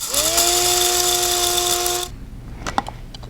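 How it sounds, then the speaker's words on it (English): An electric spice grinder whirs loudly as it grinds roasted fenugreek seeds, its motor tone rising at start-up and then holding steady for about two seconds before it cuts off, followed by a few light rattles and taps. "Okay, so after roasting, we are going to grind this."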